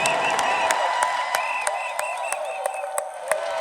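Concert crowd at a gospel show in a large hall applauding and cheering, a dense continuous wash of clapping with sharp individual claps cutting through, steady and loud throughout, with faint voices mixed in.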